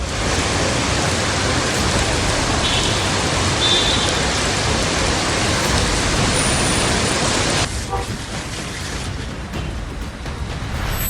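Dense, steady roar of heavy monsoon rain on flooded streets in South Delhi, loud and continuous for the whole stretch and easing slightly toward the end.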